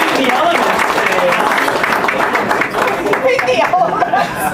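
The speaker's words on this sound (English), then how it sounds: "Let's give yourselves a round of applause for braving the elements today" An audience at an outdoor tech jam-session event claps loudly and steadily, mixed with chatter and a few chuckles, with talk running underneath.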